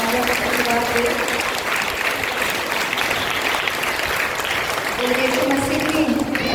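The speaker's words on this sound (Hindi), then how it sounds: "जोर से ताली बजाकर क्यों ना महान बादशाह को धन्यवाद दें" A church congregation at a prayer meeting claps hard as a dense, steady wash of applause, while a voice and music carry on under it.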